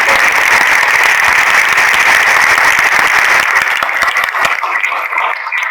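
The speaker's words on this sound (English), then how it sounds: "we must give them all a very, very great round of applause" A large audience at a company success summit gives loud, sustained applause, a dense roar of clapping that thins slightly toward the end as individual claps emerge.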